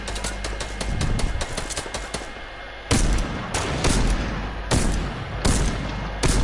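Sniper rifle fire at a wall in a shooter video game: several sharp, loud shots spaced irregularly over the clip, each with a short echoing tail, over rapid ticking and clattering game noise.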